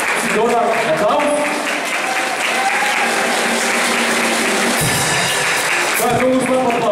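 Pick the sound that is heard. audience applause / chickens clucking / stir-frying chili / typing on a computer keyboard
audience applause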